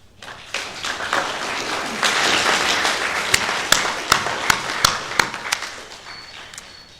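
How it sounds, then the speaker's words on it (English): An audience at an embassy ceremony bursts into applause, the clapping swelling quickly, holding as a dense wash, then thinning into a few loud separate claps before fading out. "give his families a big round of applause"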